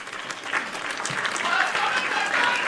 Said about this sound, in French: Voilà, ça mérite peut-être des applaudissements.